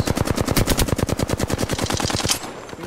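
Sustained rapid automatic gunfire from the Apex Legends battle royale game, a dense stream of evenly spaced shots close and loud for over two seconds before cutting off.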